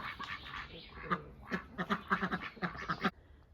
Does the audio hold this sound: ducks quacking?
yes